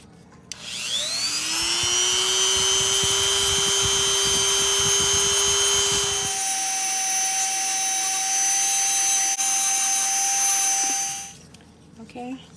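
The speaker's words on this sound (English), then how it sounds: "use my rotary tool and just go over the sides just a little to sand them down" A handheld rotary tool sands the edges of small wooden mini cutting boards. It spins up with a rising whine, then holds a loud, steady high-pitched drone for about ten seconds before winding down.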